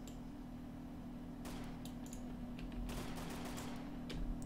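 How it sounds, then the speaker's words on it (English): Gunfire in the video game Arma 3, a few sharp distant shots and short bursts scattered over a constant low hum, fairly faint. "Shots fired."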